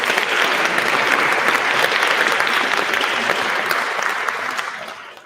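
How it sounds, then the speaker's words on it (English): Sustained applause from an audience at a student-led teaching awards ceremony, a dense wash of many hands clapping at once that holds steady and then fades out toward the end. "A round of applause for them."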